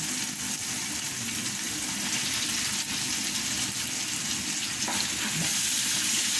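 Liver fries in a pan, giving a steady, loud, close sizzle and crackle that holds unbroken throughout with no voices.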